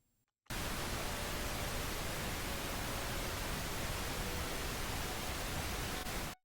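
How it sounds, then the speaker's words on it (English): After a moment of near silence, a loud, even hiss of pink noise switches on and holds steady for several seconds before cutting off abruptly. "this is what the pink noise looks like"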